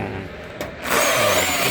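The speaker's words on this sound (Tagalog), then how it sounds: "At siyempre yung drill machine natin, ayan." An electric drill machine revs briefly at a wall opening during finishing work, a close, loud whine that drops off, then surges back stronger and holds steady.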